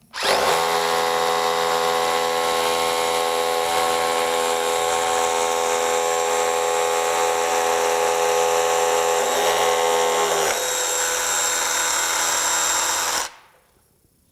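DEWALT Atomic 20V compact brushless SDS Plus rotary hammer (DCH172D2) on a 2 amp hour battery boring with a 5/32 inch bit: a loud, steady hammering whine lasting about thirteen seconds, dipping slightly in pitch near the end before stopping.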